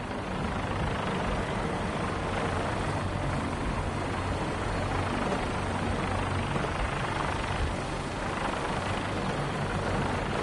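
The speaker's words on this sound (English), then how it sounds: "Get on that gunship, soldier." A military gunship helicopter flies close by, its steady, dense rotor and engine roar filling the air without letup for the whole stretch, with no voices.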